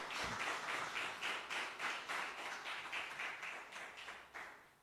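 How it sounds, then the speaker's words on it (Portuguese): A congregation clapping during worship, quiet and somewhat distant, with rhythmic bursts of applause pulsing roughly every half second and fading toward the end. "Dê a Jesus uma linda salva de palmas."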